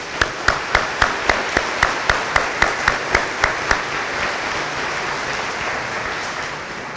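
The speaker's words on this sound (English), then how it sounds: "Please give them a round of applause." An audience at a 2017 Aiken Technical College graduation ceremony claps for a Navy Junior ROTC color guard, beginning with a dozen loud, evenly spaced claps in unison before dissolving into a steady, dense wash of applause.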